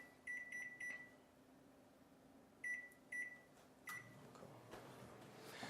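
Kitchen microwave oven running at 50% power while melting chocolate for truffle ganache, a faint steady hum broken by several short, clear electronic beeps from the control panel.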